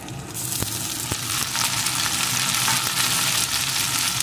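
Chopped onion, tomato and slit green chillies frying in a pan, a continuous close sizzle that swells after the first second, with a couple of sharp utensil clicks early on.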